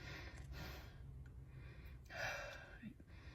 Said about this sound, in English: I really want you to feel the difference between breathing like this